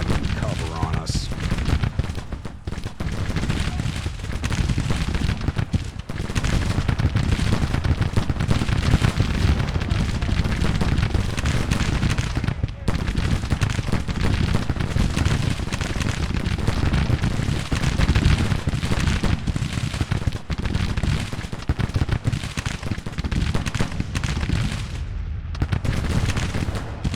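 Civil War battle gunfire in the strategy game Grand Tactician, set in spring 1861: dense, continuous volleys of rifle fire and booming artillery roll on without pause, with a voice talking over them.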